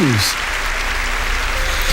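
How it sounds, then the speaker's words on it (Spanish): A church congregation claps together during a worship service, a steady wash of applause that holds loud throughout with a voice briefly audible at the start. "Vamos a aplaudir al Señor Jesús."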